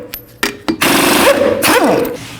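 Lug nuts being removed from a 2012-16 Honda CR-V rear wheel with a 19mm socket, likely on an impact wrench: a couple of short bursts followed by a loud, sustained whirring buzz with rising and falling pitch, close up.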